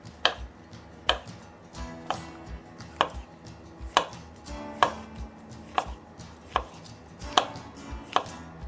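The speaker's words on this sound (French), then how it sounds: "on a pris une quinzaine de champignons qu'on va émincer finement" Button mushrooms are sliced finely with a knife on a board, about a dozen crisp, evenly spaced chops in a steady rhythm. Each cut is close and clear, with no one talking.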